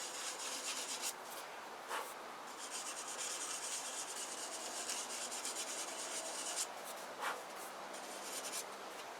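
A random orbit sander works across wood outdoors with a continuous, fairly loud hissing scrape, broken by a few brief sharper scratches as the pad moves back and forth, and no one speaks.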